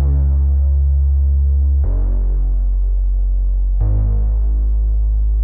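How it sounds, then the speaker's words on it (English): An atmospheric synth pad in a car music track is layered with a simple sub-bass. It plays loud, sustained chords that change twice, with a deep, throbbing low end and no voice. "For the very low end I added a simple sub-bass to make the overall presence of the re-space even fatter."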